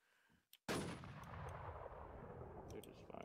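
Enemy gunfire in a shooter video game erupts as a loud sudden burst after a brief quiet moment and then rumbles on steadily with repeated shots, and a voice speaks faintly underneath.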